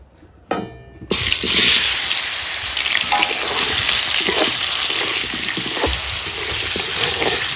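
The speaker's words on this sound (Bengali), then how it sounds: "মা আলুটা ভেজে নিচ্ছে" Potatoes drop into hot oil in a pan, and the hiss swells at once into a loud, steady, close sizzle that continues unbroken for several seconds.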